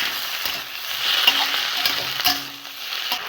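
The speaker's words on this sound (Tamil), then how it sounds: "பூண்டு சில்வர் கடாய் வச்சிங்கன்னா சீக்கிரமாக வதங்கிடும், ஆனால் கைவிடாமல் வதக்கணும்" Onion, garlic and tomato sauté in a silver kadai for a Tamil chutney, sizzling steadily up close while a spoon stirs and scrapes the pan in a few distinct strokes.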